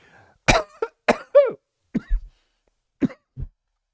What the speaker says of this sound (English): I'm starting to cough because my throat's getting dry.